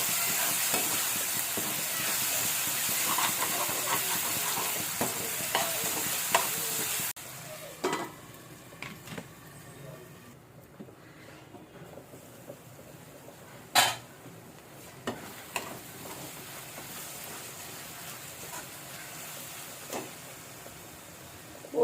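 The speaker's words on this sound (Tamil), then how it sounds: "பச்சை வாசனை போகிற வரைக்கும் கிண்டி விட்டுக்கோங்க." Tomatoes and spices for chicken chukka sizzle and fry in a pan, with a steady loud hiss at first, then quieter frying broken by repeated clinks and scrapes of a spoon stirring against the pan.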